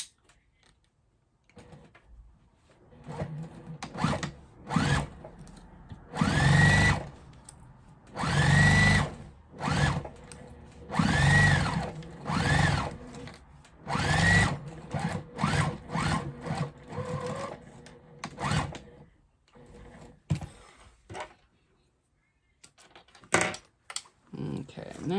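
A sewing machine stitches down a quilted tote bag made from jelly roll strips, its mechanical whirring running in short and long bursts with pauses between them, close and clear, while a person speaks quietly at times.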